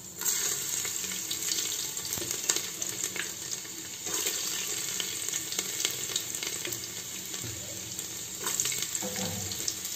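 Garlic sizzling in hot oil with asafoetida (hing) and cumin, a steady close frying hiss across the whole stretch with occasional stirring scrapes and no talk.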